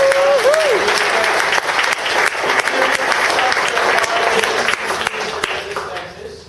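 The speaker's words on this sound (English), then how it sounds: "I just want to first give a great round of applause and thank you" An audience at a tech meetup on big data gives sustained, full applause that holds loud for several seconds before tapering off. A voice and a few cheers rise briefly over the clapping near the start.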